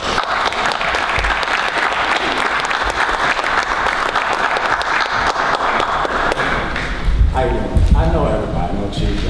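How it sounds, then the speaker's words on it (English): Audience at a community caucus meeting on hate crimes claps in sustained applause, loud and steady throughout, rising briefly near the end. "Let's give him a round of applause."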